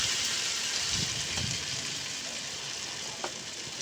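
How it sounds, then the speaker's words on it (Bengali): Pumpkin kebabs shaped like chops fry in hot oil with a continuous, even sizzle and a couple of faint pops, moderately loud with no voices. "এটাকে আমি এবার ভেজে নেব।"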